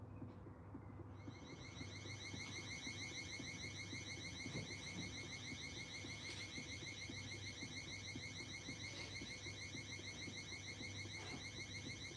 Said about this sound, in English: Sorry if you can hear my alarm system.